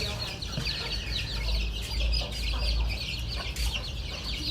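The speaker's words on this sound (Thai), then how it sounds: "ได้มองได้เห็นได้ยินเสียงไก่ก็มีความสุข" A rooster and hens cluck continuously at a rural fighting-cock farm, a dense chorus of nearby fowl calls layered over a low steady background hum.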